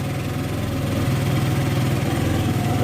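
An HJS engine just after starting, idling high with a steady, close, even rumble and a fast regular pulse that holds without pause.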